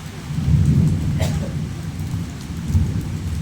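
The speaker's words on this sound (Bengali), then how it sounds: "অনেক বৃষ্টি হচ্ছে এখন।" Steady heavy rain pours down with low rumbling thunder rolling underneath, swelling near the start and again toward the end.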